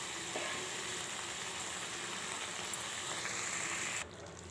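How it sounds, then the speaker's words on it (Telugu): Cooked lentils go into a pot of boiled tamarind broth, which gives a steady, fairly faint bubbling hiss that runs evenly and then drops away abruptly near the end, with no voices. "ఇందులో ఇప్పుడు పప్పు వేసేసుకుందాము."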